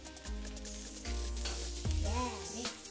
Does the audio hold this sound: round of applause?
no